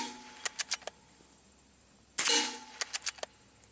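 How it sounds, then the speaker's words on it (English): A suppressed .22 rifle firing 60 grain bullets at a steel trap and an earth berm: four soft snapping shots, a louder ringing crack after a pause, then four more quick snaps, no talking. "I'm going to shoot some at the trap so you can hear how hard they hit."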